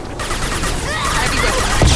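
Weapons fire in the sci-fi video game Mass Effect 2, a steady loud wash of shots and blasts through the whole moment, building slightly toward the end with a heavy thump, no talk over it.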